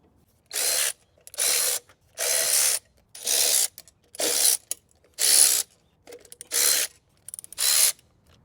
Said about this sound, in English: So you need a wrench to be able to remove it.